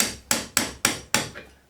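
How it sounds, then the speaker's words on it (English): A hammer drives a pin into a door hinge with four sharp, evenly spaced metallic taps, each ringing briefly before the next, close and clear with no voices. "Then drive it in with a few taps from the hammer."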